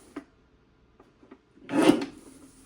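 A paper trimmer cutting a cardstock panel for a handmade card: a few light taps, then a single short rasping slide of the blade, close and clear, with no talking.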